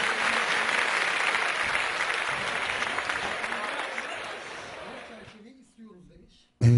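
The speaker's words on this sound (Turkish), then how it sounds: "Alkış jingle'ımız." A radio studio plays an applause jingle, a thick crowd-clapping effect that gradually thins and drops out near the end before a sudden loud burst.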